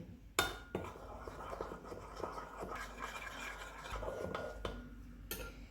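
A spoon scrapes and stirs through a dressing of lemon juice, black pepper, salt, fennel leaves, fresh coriander and garlic in a bowl. The scraping comes close and steady, with a few sharper knocks, and no one speaks.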